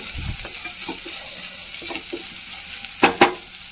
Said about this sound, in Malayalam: ഒരു വലിയ സബോള അരിഞ്ഞതാണ് ഇട്ട് കൊടുക്കുന്നത് കനം കുറച്ച് അരിഞ്ഞത് ഇട്ട് കൊടുത്തു